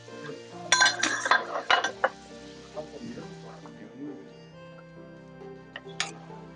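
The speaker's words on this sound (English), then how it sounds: "So you're going to use slotted spoons to remove the shrimp into a separate bowl" A metal slotted spoon scrapes and clinks against a pan and bowl while lifting cooked shrimp out, giving a cluster of sharp clinks early on and then sparser taps, fairly close.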